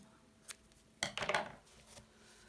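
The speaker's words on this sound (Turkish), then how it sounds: "İpi kesiyorum." Scissors snip through crochet yarn at the end of a row of a summer bag: a small click, then a close, crisp cutting burst with a faint trailing rustle, quiet and with no talking.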